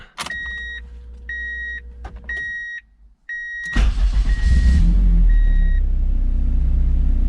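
A Mazda Miata with a K-series engine swap starts up after a few chime beeps, then the engine catches and settles into a loud, steady idle nearby.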